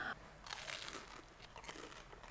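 Crunchy fried nems, Vietnamese spring rolls, bitten and chewed close up, a crisp crackling crunch followed by steady chewing with brittle crinkly bursts, no talking.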